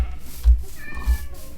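A Minecraft cat meows in the video game, two short, loud meows spaced about half a second apart, with faint game ambience between.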